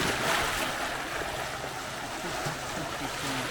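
Steady broadband wash of surf on a coastal road in Davao Occidental as the tide comes in, a continuous rushing hiss with slight swells and no speech.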